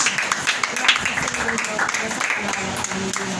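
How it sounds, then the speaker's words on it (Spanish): A church congregation claps during an evangelist's sermon, a dense, steady patter of many hands mixed with voices and tonal sound for a few seconds. "Denle un fuerte aplauso al Rey de Reyes"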